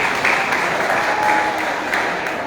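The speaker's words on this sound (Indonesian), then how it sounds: "tepuk tangan untuk kita semua" Applause from an audience at a Batak clan New Year gathering of the Butarbutar family, a dense, steady clapping that fills the room for a couple of seconds without any voices.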